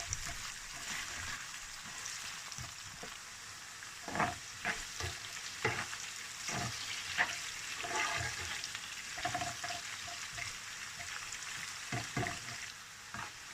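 Bitter gourd (karela) softening in a hot handi gives a steady, close frying hiss, with scattered spoon-stirring knocks in the middle stretch and no talking.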